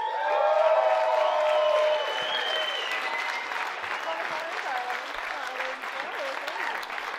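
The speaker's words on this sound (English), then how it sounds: "Thank you for clapping like you know who I am." A comedy audience claps and cheers as a comedian is welcomed to the stage, loud at first and then easing into scattered clapping while a voice begins talking over it.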